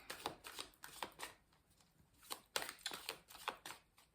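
Tarot cards riffled and shuffled by hand in a quiet room, a close series of soft papery flutters and slaps in irregular bursts, then a brief pause before more shuffling and the cut.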